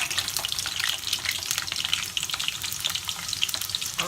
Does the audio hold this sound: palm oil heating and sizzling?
yes